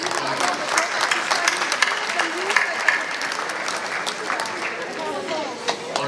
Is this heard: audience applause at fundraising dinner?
yes